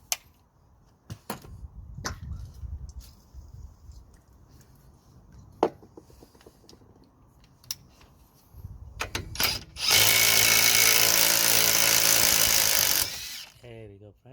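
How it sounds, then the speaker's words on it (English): Power tool whirring loudly for a few seconds as it drives the top anti-roll bar linkage nut on a Mitsubishi Outlander, preceded by scattered clanks and metallic taps during work. "we're going to drive the nut in and out a few times"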